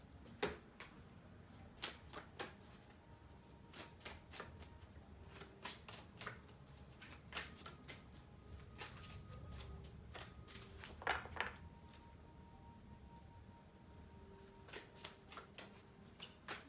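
Earth Wisdom oracle cards are shuffled over and over, making soft, quiet riffling flicks and slaps at an irregular pace in a calm room.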